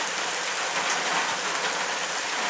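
Rain falls on an outdoor amateur football match between LKS Spręcowo and KP Purda, a steady, dense hiss that fills the clip with no talk heard.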